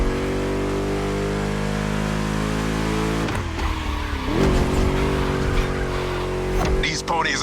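A car in The Crew Motorfest driving game holds a steady loud engine drone, then its tires squeal in a skid partway through and the engine revs again, with a voice speaking over it.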